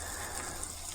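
Jalapenos hitting a smoking hot pan, a brief, faint, steady hiss of sizzling with no voices.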